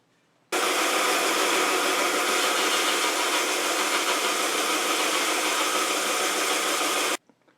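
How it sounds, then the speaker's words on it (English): A bandsaw cuts through wood for a wavy-bladed dagger, a steady loud whirring drone that starts abruptly, holds evenly for about seven seconds and then stops, with no talk. "I'm going to see if I can use a bandsaw here and make 8 cuts"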